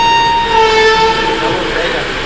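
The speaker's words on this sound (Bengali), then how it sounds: "যাজপুর স্টেশন থেকে ট্রেন ছাড়ছে, ফাঁকা স্টেশন।" The Sealdah Puri Duronto Express (22201) pulling out of a quiet Jajpur Road station at night: a loud, close rail rumble carries a sustained horn-like tone that fades over about two seconds.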